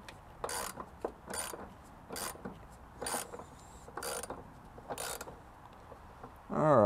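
Ratchet wrench with a 13 mm socket tightening a battery clamp on a Chevy Colorado, giving several short, close rasping clicks in separate bursts about once a second.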